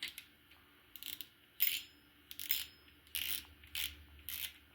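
Freshly cleaned and oiled fishing reel turning its mechanism, producing short bursts of crisp metallic clicking and whirring separated by pauses, close and alone.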